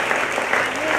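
Applause from a church congregation praising the Lord, a dense steady clatter of many hands filling the brief moment at an even level.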